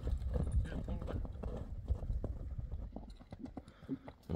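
A grey horse for sale in a Kyrgyz village runs, its hooves thudding in an irregular rhythm under people talking and outdoor noise.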